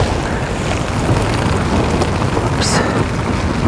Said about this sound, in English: it is not raining much around anywhere else but around here